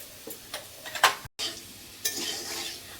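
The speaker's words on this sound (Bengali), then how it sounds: "কত তাড়াতাড়ি আমার আলুগুলি ভাজা হয়ে গেছে।" Potatoes with turmeric fry in a pan over a stove, giving a soft sizzle broken by scraping stirs and a brief clatter, then a brighter, steadier hiss toward the end.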